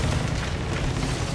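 Ship cannon fire in Assassin's Creed Rogue, a loud, dense roaring blast that fills the whole short stretch with heavy low rumble and no talking.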